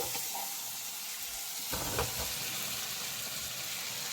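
Taro pieces drop into a pan of sizzling, oil-released spice paste with tomato for a fish head curry, giving a brief louder crackle and stir amid a steady hiss.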